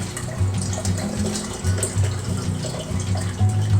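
Fire cider vinegar pours and streams out of twisted cheesecloth with a continuous wet, splashing trickle, steady and close, with no talking.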